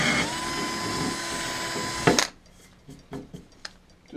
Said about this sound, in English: You always want to drill the end of a crack to keep it from spreading.